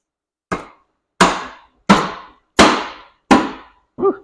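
A 12 millimeter socket clicks sharply six times in a steady rhythm while loosening the top case bolts on a Toyota RAV4 transmission, each click loud and close with a short decaying ring.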